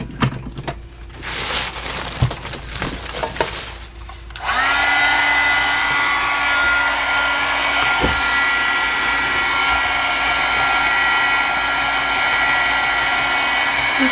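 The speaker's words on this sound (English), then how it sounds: "Now I'm going to plug in my heat gun." A heat gun blows hot air to dry a mixed media collage: a steady, loud, whooshing roar with a faint whine runs unbroken for about ten seconds after some brief handling noises at the start.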